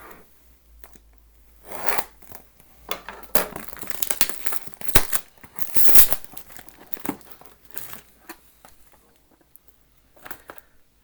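Packaging of a diamond art painting kit being opened close up: bursts of crinkling plastic and paper, tearing and rustling come in uneven clusters, louder in the middle and fading to sparse crackles, with no speech.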